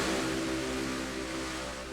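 Race car engines roar steadily in a stock car racing video game at Richmond, a dense, continuous drone of several cars at full throttle with no voices.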